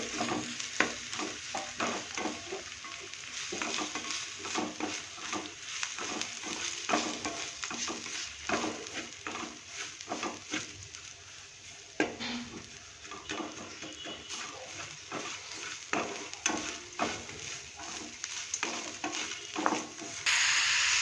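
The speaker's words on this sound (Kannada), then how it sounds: "ಟೊಮೆಟೊ ಕೂಡ ಹಾಕಿ ಅದರಲ್ಲಿ ಫ್ರೈ ಮಾಡಬೇಕು" Tomatoes fry in a pan with grated coconut for tomato chutney, giving a steady sizzle broken by frequent scraping stirs of a spatula, close and moderately loud, with no talking.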